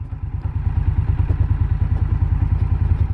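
An Indian Scout Bobber Twenty motorcycle lopes along at low speed, near idle, its engine giving a loud, close, rhythmic thumping pulse with steady exhaust beats.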